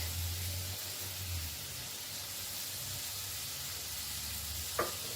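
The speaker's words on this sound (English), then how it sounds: "here's my green pepper that I'm throwing in next" Green pepper tossed into a cooking pot of sugar bean bredie with meat, giving a soft, steady sizzle and hiss close by, quiet throughout and ending with a brief clink near the end.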